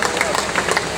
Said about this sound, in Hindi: चलो, टुडुम, बजाओ ताली